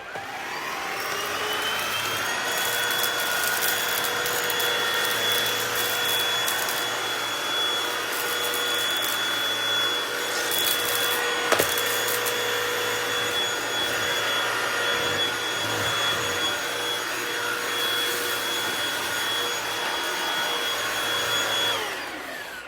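A Dyson vacuum cleaner sucking up spilled cat litter, a loud continuous high-pitched whine and roar with gritty rattles of granules, steady and close for over twenty seconds.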